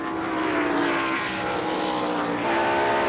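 NASCAR stock cars race at the 1992 Save Mart road course, a dense blended engine roar with smoking tires during a pass, steady and loud without pause.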